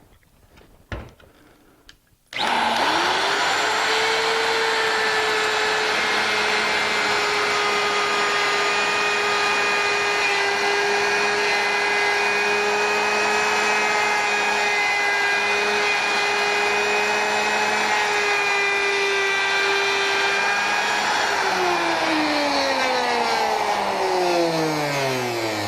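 A router cutting a partial edge radius on a maple tabletop spins up sharply after a brief knock, then holds a loud, steady high whine for about twenty seconds before winding down at the end.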